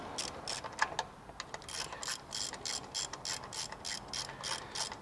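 Rapid ratchet clicking from a wrench loosening the tensioner bolt on a Camaro SS LS3/L99 V8 engine, repeated bursts of pawl ticks in a steady back-and-forth rhythm, close and fairly quiet with no talking.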